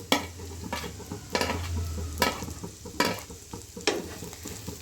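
Green chillies sautéing in a pan with garlic for mushroom pasta: a steady sizzle broken by rhythmic stirring scrapes every second or so, close up, with no speech.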